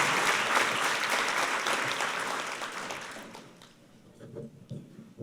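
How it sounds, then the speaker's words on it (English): An audience at a Pro Football Hall of Fame awards ceremony breaks into a round of applause, thick clapping that stays strong for about three seconds and then thins out and fades, leaving a few scattered sounds. "how about a round of applause for Steve Weiss?"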